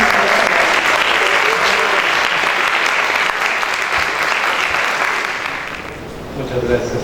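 Loud, sustained applause from an audience at a university architecture lecture, welcoming the architect, dense and steady before tapering off near the end.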